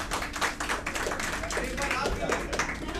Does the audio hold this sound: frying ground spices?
no